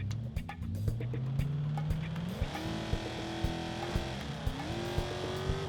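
A race car in BeamNG.drive launches, its engine pitch climbing through gear changes with a sharp drop at each shift and faint tire chirps, moderately loud with no talking.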